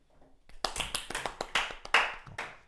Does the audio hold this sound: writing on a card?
no